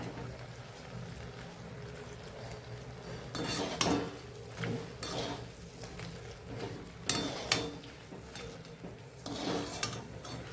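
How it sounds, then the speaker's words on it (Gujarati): Chorafali deep-frying in oil, giving a steady, soft sizzle in the background, punctuated by several sharp metallic clinks and scrapes of a utensil against the pan, close by and with no talking. "તો સેમ આ જ રીતે આપણે બધી ચોળાફળીને તળી લેવાની છે"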